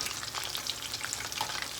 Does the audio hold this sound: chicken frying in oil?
yes